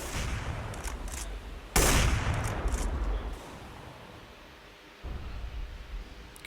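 Muffled gunfire punching through a wall in the shooter CS:GO during an ESL Pro League Season 3 Finals match: a dense loud burst of shots lands mid-clip, then a lull and a second, quieter volley near the end, over steady game noise.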